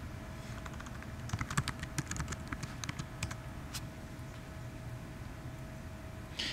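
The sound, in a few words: typing a password on a computer keyboard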